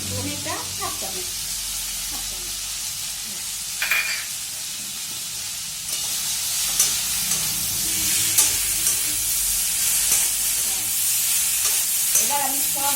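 Ground spices being stirred into a pan as they fry in a little oil, a steady sizzle with scraping spoon strokes throughout, growing slightly louder partway, with a few faint background clinks.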